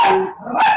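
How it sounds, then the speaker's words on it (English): A dog gives two sharp, loud barks close by in quick succession inside a home. "sorry about the dogs."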